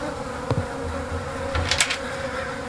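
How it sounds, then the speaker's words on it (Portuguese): Flies buzzing in a horror video game set in a house, a continuous close insect drone with droning hum below and a few louder sharp flutters, no voices. "Cheio de mosca."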